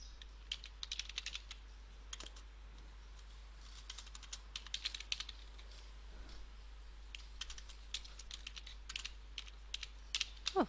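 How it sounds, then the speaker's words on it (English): Someone types on a computer keyboard in quick, irregular bursts of light clicks with short pauses, faint and close in a quiet room with a low steady hum. "Oh, get your typing right, Mrs. Canvia."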